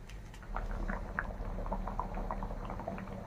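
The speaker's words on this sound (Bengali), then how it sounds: "বলক আসা পর্যন্ত ওয়েট করতে হবে।" Milk with grated carrot and rice for carrot payesh bubbles in a pot, soft popping bursts and gurgles rising steadily over a low simmering hum, close and fairly quiet.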